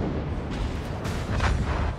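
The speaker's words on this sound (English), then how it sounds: "And first torpedo hits." In a naval video game, a torpedo slams into a destroyer, heard as dull booming rumbles and muffled blasts over a constant low roar of game noise, with no talk.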